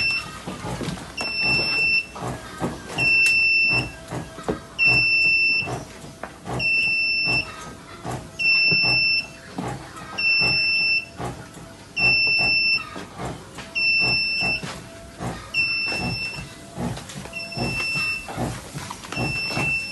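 A disinfectant spraying booth's alarm, set off by a button press, repeats a loud pulsing two-tone beep in regular bursts of roughly a second, over a background of clattering and mechanical noise.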